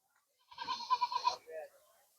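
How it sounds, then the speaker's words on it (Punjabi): A short, wavering Beetal goat bleat, close by and fairly clear, with a quieter trailing bleat right after and silence around it. "ਆ ਬੀਟਲ ਬੱਕਰੀ ਹੈਗੀ"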